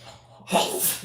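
A single sharp sneeze bursts out after a brief quiet intake of breath, close and fairly loud, with a short airy tail.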